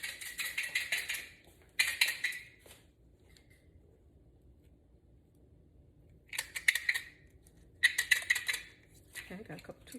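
Toothpicks are grabbed from a container in a kitchen while preparing bacon-wrapped stuffed chicken thighs, heard as several short bursts of light wooden clicking and rattling separated by quiet pauses.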